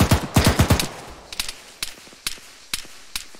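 Gunfire in ArmA 3 during military squad training: a fast burst of automatic shots up front, then sparse single cracks spaced out at irregular intervals, close and sharp, with no talk.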